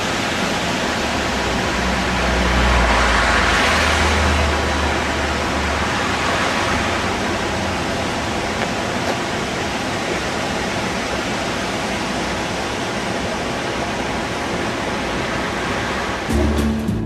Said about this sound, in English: Part of the same stream, just a little bit further up.